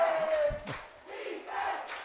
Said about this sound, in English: Listen to this crowd. Hometown advantage certainly in factor here.